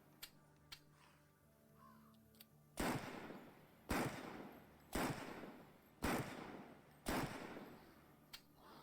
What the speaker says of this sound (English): I'm firing there, I'm tapping it as quick as I can. It does not fire quickly, the rifle.